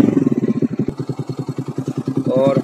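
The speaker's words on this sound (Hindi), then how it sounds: "और आप यहाँ पे सुन सकते हैं बाइक के साउंड की आवाज।" Bajaj Pulsar NS motorcycle fitted with an SC Project exhaust, idling with a steady, rapid low-pitched thumping pulse throughout, close and loud, with a brief rise in revs near the end.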